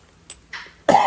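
A single sharp cough bursts out after two brief, faint noises, fairly close and loud, with no talking.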